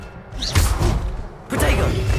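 The Incendio fire spell in Hogwarts Legacy is cast twice, each time a loud whooshing burst with a heavy low thump, the second blast sustaining briefly.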